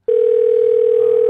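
A steady telephone dial tone in GTA roleplay sounds right after a call hangs up, one loud continuous pure tone held without a break and standing alone.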